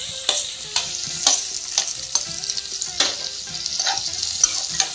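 Onion sautéing with cinnamon and cloves for vadakari, a steady close sizzle broken by repeated sharp scrapes and clicks of a spatula stirring in the pan, with no voices.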